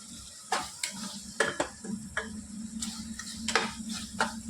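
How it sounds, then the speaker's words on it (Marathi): Finely chopped large tomatoes hitting hot oil in a pan for sev bhaji, giving a continuous close sizzle broken by repeated sharp clinks and scrapes of a stirring spoon. "टोमॅटो मी इथे मोठा टोमॅटो घेतलेला आहे दोन ते ह्यामध्ये बारीक चिरून टाकत आहे"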